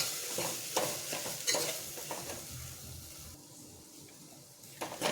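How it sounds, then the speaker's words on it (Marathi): Vegetables stirred in a hot pan while cooking pudina rice, a scraping, clattering stir over a steady sizzle, with bursts of spoon strokes and a quieter stretch toward the end. "आणि सोबत मी टाकणार आहे वेजीस सगळ्या आणि त्याला एक मस्त स्टर करणार."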